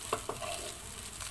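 Leftover fried rice is stirred in a hot pan, a brief close scraping and shuffling with two quick utensil knocks at the start over a soft continuous sizzle.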